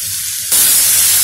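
Boiled chickpeas tipped into a hot pan of tempering set off a sudden loud sizzling hiss that breaks in after a brief quieter moment and then keeps on steadily.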